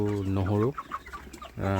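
Sonali chicken chicks cluck close by at feeding and watering time: two drawn-out, tonal calls bracket a stretch of softer, scratchy clucking.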